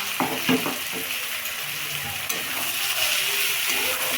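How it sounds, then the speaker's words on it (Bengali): Vegetables for fried rice sizzle and fry steadily in a pan, with stirring scrapes near the start; continuous close sizzling throughout, no voices. "ফ্রাইড রাইসের জন্য দেখো এখানে সবজি ভাজা শুরু হয়ে গেছে"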